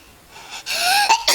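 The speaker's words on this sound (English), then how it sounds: "Wow, that was an ugly sneeze." A single person's sneeze, an indrawn breath building up and then bursting out in a sharp, close, forceful expulsion.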